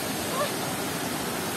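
A freshwater waterfall roars as a dense, constant rush of water, close and loud, with no break across the short stretch.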